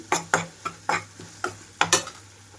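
Ginger and garlic frying in a pan for a mushroom fry, stirred with a utensil that scrapes the pan in about eight sharp strokes over a low sizzle, close and fairly loud, with no talking.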